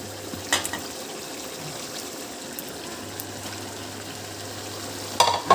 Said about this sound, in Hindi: अब हम डालेंगे इसके अंदर पालक।